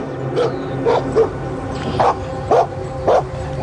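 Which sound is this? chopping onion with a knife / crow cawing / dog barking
dog barking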